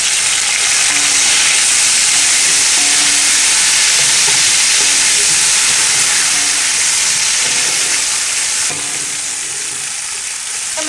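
Tomatoes hitting a hot pan for egg potato biryani sizzle loudly and steadily, a dense close frying hiss that holds for the whole stretch and eases slightly near the end, with no talking.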